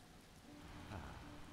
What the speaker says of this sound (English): it's raining as well